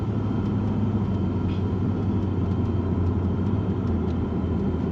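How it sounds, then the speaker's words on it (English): A 2008 Lexus GS460 V8 gives a steady, deep engine rumble throughout, low and continuous with no talking, while driving around a neighborhood. "You can hear that V8."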